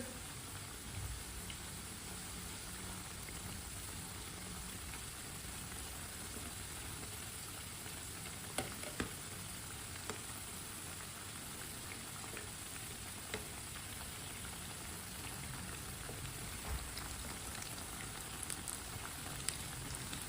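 Potato pakoras frying in oil make a continuous, dense sizzle with scattered small pops and crackles, steady and unbroken throughout, with no talking.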